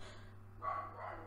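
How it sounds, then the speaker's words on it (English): A dog barks excitedly indoors, a short muffled yelp or bark standing out at moderate distance over a steady low electrical hum, with no talk. "You might hear my dog barking because he is going crazy right now."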